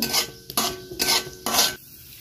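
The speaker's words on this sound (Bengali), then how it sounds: "ভালো করে নেড়ে চেড়ে একটু ভেজে নেব" Panch phoron stirred and fried in mustard oil in a hot wok: four bursts of scraping and sizzling, each about a third of a second long, separated by short gaps.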